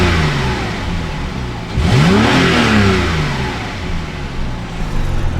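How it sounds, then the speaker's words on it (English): A car engine revs in an empty parking lot, rising from a low idle into a sharp, loud climb and falling back, with a second smaller rev near the end. "let me give it some revs."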